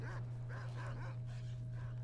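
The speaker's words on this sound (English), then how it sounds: "Keep worrying about me, not the dogs that are killing you." Dogs in S.T.A.L.K.E.R.: Shadow of Chernobyl bark and yelp in a few short bursts over a constant low game hum, fairly near and moderately loud.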